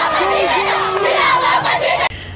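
A dense crowd outside Kintambo hospital greets President Félix Tshisekedi with loud overlapping shouts and cheers that carry on for about two seconds, then cut off abruptly.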